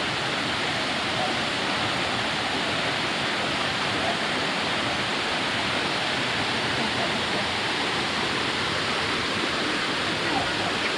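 A steady, loud, broadband roar of falling water at Sungai Pandan waterfall near Kuantan, Malaysia, heard close and continuous without letup.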